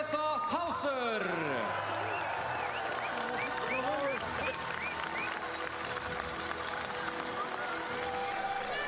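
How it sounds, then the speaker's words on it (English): A crowd applauds and cheers at a biathlon World Cup ceremony, with steady clapping and cheering mixed with a loudspeaker voice and some fluttering, whistling sounds. "I give a skikkelig applaus, a great round of applause for Tiril Eckhoff, Marte Olsbu Røiseland"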